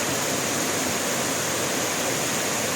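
Water from an underground spring at Paglitaw resort in Tanay, Rizal, rushes loudly and close by. The dense, even hiss holds steady throughout with no pauses.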